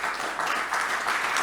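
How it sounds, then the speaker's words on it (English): A conference audience claps for a panel coming on stage, a brief burst of steady, fairly distant applause. "please give a round of applause for my rock star panel"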